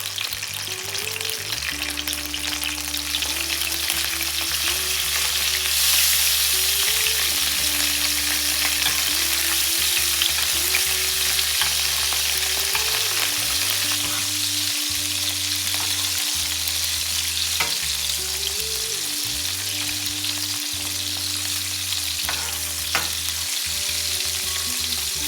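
Steak pan-fries with fresh thyme, garlic and butter over lowered heat, giving a loud, continuous sizzle. A steady droning hum runs beneath it, and there is no speech.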